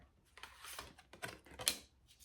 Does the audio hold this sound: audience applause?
no